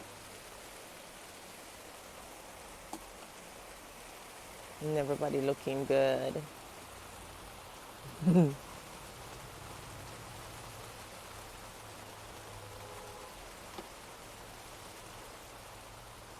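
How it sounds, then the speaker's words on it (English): Steady rain falls outdoors as a soft, even hiss throughout, with a brief burst of nearby talk in the middle and a short voice shortly after. "It's raining. Such a blessing."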